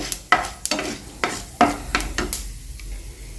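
Mustard seeds, cumin and dals frying in hot oil, close and loud, with a spoon repeatedly scraping and stirring in uneven strokes over a low crackling sizzle.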